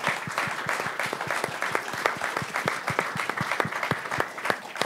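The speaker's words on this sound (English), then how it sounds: "Please join me in giving the panel a round of applause." An audience gives a panel a dense round of applause, many hands clapping steadily and evenly for the whole stretch, no voices on top.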